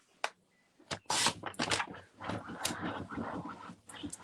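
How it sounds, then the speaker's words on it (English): A dog whimpers and pants indoors, a few sharp yips and whines followed by close, rhythmic breathy panting and soft whining, with no one speaking. "Excuse the dog if you can hear the dog."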